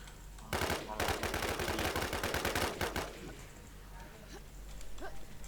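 Rapid automatic gunfire from a shooting video game, a dense burst of repeated shots lasting a few seconds and then stopping, with low game background sound afterward.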